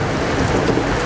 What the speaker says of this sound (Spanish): ¿Y ahora tormenta?